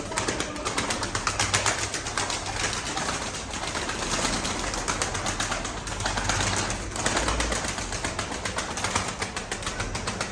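Pigeons coo softly and repeatedly amid a dense rustling, fluttering background, with occasional wing flaps and faint voices nearby.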